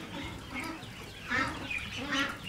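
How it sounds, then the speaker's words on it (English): Ducks in a large temperature-controlled enclosure quacking nearby, several loud honking calls in irregular bursts over a low background murmur. "we're sitting amongst these gorgeous ducks here"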